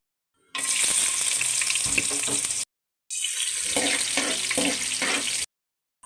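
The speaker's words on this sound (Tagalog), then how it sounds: "Gisa lang muna tayo. Sibuyas nang ilagay." Onions sautéing in a pan for Filipino ginisang tuna, a loud steady sizzle in two bursts separated by brief silences, with faint clinks of stirring, no talk.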